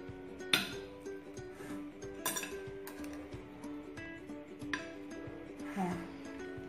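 Cutlery clinks and scrapes against a plate while a slice of chocolate bombom cake is cut and lifted out, with a few sharp taps standing out against a steady low hum and room noise.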